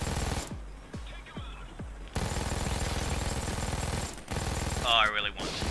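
An MG42 machine gun fires in Payday 2 in rapid, loud bursts, with short separated shots at first and then a sustained ripping stream of fire, broken by brief pauses and a voice near the end.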